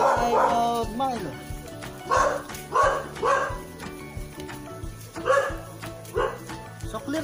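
Dog barking repeatedly at a barangay, several sharp barks and yips spread through the stretch with people talking and background noise throughout.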